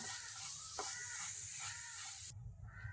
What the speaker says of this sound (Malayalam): ബീട്രൂട്ട് ഇട്ട് ഒന്ന് ഇളക്കി കൊടുക്കാം.